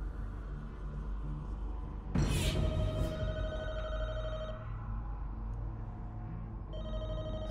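A telephone rings in The Walking Dead: Michonne video game, a bright electronic trill rising over a low ambient rumble, with a couple of distinct rings.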